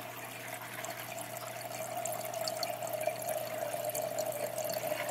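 Water draining from a flooded garden bed, a faint steady trickle and gurgle that grows slightly over a constant low hum, with no voices.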